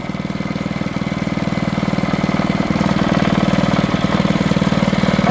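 A small mini bike engine idles near and loud, its steady rapid putter holding an even rhythm throughout, with no voices.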